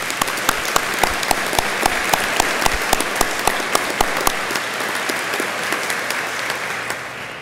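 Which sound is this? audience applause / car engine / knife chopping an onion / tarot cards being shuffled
audience applause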